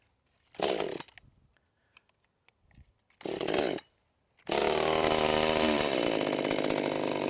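A Bad Boy gas commercial chainsaw being started: two short pull-start bursts, then the engine catches and runs at a loud, steady idle, close by with no talk.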